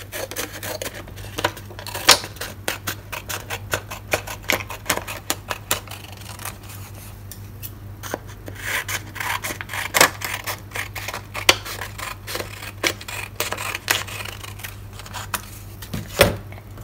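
Scissors snip repeatedly through black paper, cutting it into strips, with sharp close cuts and rustles repeating throughout over a steady low hum.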